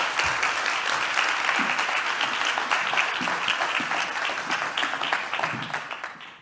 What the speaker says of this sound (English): Please welcome, with a warm round of applause, Inês Rocha de Gouveia.